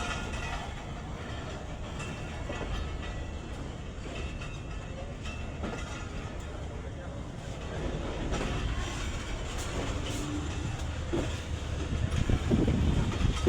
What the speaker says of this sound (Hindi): रावलपिंडी रेलवे स्टेशन के प्लेटफार्म को छोड़ते हुए